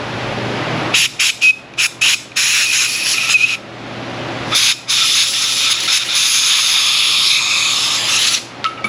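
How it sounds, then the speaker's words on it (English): Compressed shop air blasts through a freshly cleaned part in an auto repair shop, loud hissing bursts in quick stuttering pulses, then a longer sustained blast, close and alone. "Blowing shop air through it"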